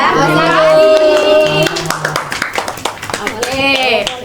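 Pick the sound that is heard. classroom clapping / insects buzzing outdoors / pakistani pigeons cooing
classroom clapping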